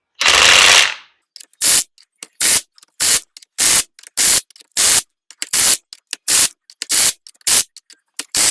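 A pneumatic impact gun tightens bolts on a limited-slip differential: one long opening burst, then about a dozen short, sharp rattling bursts in a steady rhythm, close and loud, with no talking.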